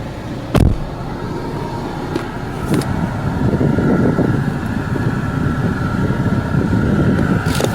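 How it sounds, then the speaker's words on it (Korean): A used Kia All New Sorento idles with a steady, even engine hum close by, a few brief knocks and clicks over the top and no talking. "엔진 소리 가 아주 경쾌합니다."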